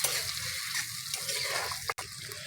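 Chopped garlic sizzles in butter in a small wok, with an even hiss under soft stirring scrapes and a quick clack, broken by a brief dropout near the end.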